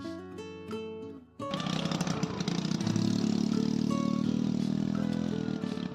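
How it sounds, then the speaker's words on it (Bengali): A motor vehicle in a bike parking area by Chandrabhaga Beach drives off toward the shore: first a few tonal engine pulses, then a sudden loud, rough engine roar that holds steady and close. "গাড়ির কি আওয়াজ!"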